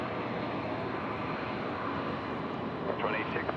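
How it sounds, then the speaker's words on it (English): A Qantas Airbus A380 landing at Sydney Airport after a flight from Los Angeles gives off a steady, broad engine roar that holds level throughout, distant and continuous. "That's Qantas 12 coming in from Los Angeles, the A380, which will be with us in just a moment."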